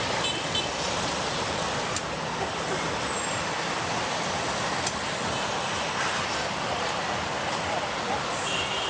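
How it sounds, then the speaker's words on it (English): Dense traffic at a busy intersection without traffic signals, a continuous loud roar of engines and road noise with no gaps or distinct events. "here is a fairly complex intersection with dense traffic, no traffic signals"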